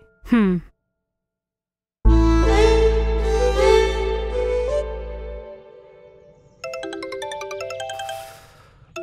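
A mobile phone rings with an incoming call, a repeating electronic ringtone melody that plays loud and close for several seconds, while a woman sighs and murmurs briefly around it.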